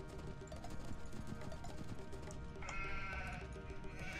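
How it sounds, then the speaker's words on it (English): Goats bleat in the Age of Empires 2 video game, several short cries over busy game ambience. Hoof-like clip-clops and a faint steady tone run through the quiet mix. "Actually nice of the AI to send all those goats right to my base."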